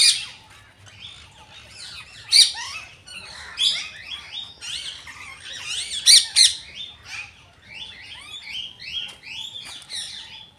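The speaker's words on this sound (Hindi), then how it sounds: "तो इसमें है कुछ पैरट" Parrots in a zoo cage at Chattbir Zoo squawk and chatter continuously, dense overlapping shrill calls with louder bursts, close by and without speech.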